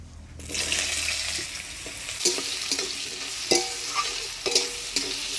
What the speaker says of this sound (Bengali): ফোড়নে আলুটা নাড়াচাড়া করে নিলাম